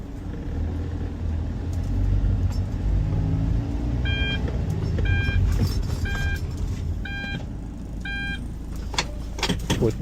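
The diesel engine of a 2012 Hyundai Santa Fe SUV idles with a steady low rumble, heard from inside the vehicle, while a chime beeps in a repeated, evenly spaced pattern partway through.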